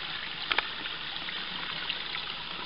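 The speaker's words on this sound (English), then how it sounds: "Got a neat little miniature brook crossing along the trail." A small brook flows at a trail crossing on a White Mountains hike in New Hampshire, a soft continuous trickle and babble with a couple of brief clicks near the start.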